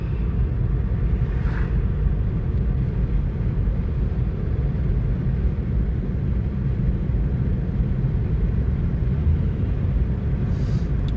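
Interior drone of a 7th-generation Honda Accord with the 2.4-litre engine and a free intake modification, a steady low rumble that holds level throughout from inside the cabin, with no talk over it.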